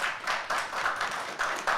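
Short burst of applause from a small group at a school board meeting, with scattered, uneven claps and no talk over them.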